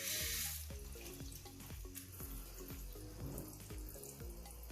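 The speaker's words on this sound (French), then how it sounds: "On prend simplement son robinet et on va passer un petit peu d'eau." Tap water runs steadily into a black resin sink, splashing and gurgling with irregular drips and knocks, close and fairly quiet, with no voices.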